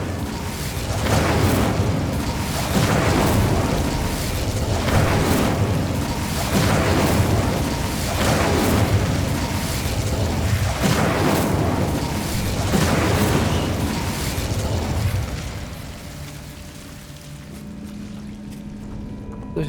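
Repeated blasts of the Confringo explosive spell in the Hogwarts Legacy video game, a steady run of heavy booming bursts for about fifteen seconds before fading to a low hum.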